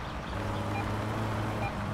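A steady electronic beeping warning tone in the driving game My Summer Car, repeating at a moderate level over low vehicle rumble.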